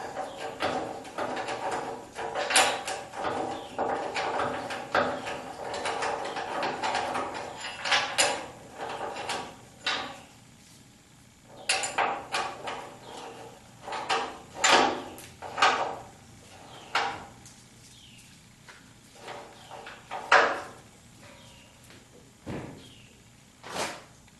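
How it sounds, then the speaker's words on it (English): A ratcheting wrench tightening parts on the frame of a 1976 Corvette restomod, heard as close, irregular bursts of rapid clicking separated by short pauses, with no talking. "it seems to be doing okay for putting it on"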